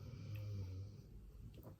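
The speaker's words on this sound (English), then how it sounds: "Sorry about the snoring" A dog named Sprocket, sleeping with a chest rub, snores in one low, rumbling drawn breath close by, followed by softer snuffling.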